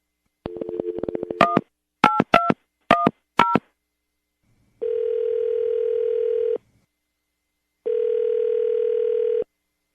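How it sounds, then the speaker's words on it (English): Telephone call being placed: a rapid run of touch-tone dialing beeps in short clusters, followed by two long, steady ringback tones separated by a pause, clean and close with no voices. "We're going to call her right now, get her on the phone"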